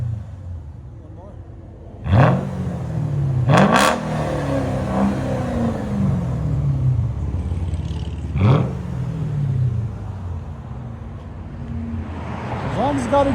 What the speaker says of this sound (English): 2007 S550. Straight pipe with an X-pipe.